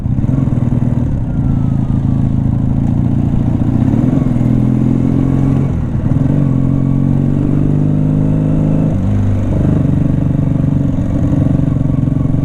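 A 40-year-old air-cooled motorcycle rides through Seattle traffic, its engine loud and continuous, with close, rough throttle changes and pitch shifts as it accelerates and slows.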